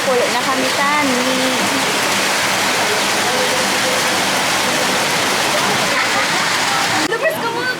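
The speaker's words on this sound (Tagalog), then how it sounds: "nabdan kami ulan" Steady, loud rain pours down outdoors, a dense continuous hiss with splashing water throughout; voices talk over it near the start and again near the end.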